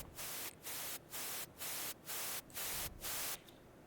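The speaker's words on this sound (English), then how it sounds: "There's a riser that I made in Vital using just white noise" A white noise riser built in a synth with sidechain ducking, so the hiss pumps in regular bursts about twice a second with short dips between, ending in a brief quieter tail.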